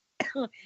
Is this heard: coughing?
yes